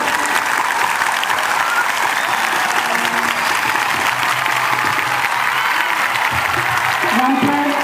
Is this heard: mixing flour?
no